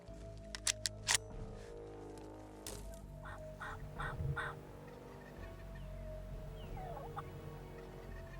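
Eastern wild turkey gobbling outdoors during a spring hunt in Iowa, a rattling gobble from a moderate distance, preceded by a few sharp clicks and set against steady low background noise.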